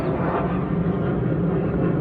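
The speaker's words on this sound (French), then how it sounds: "avec un avion de chasse qui passe au-dessus" A fighter jet passes overhead during a road trip, its roar a steady, loud, broadband rumble that holds without a break for the whole moment, with no voices over it.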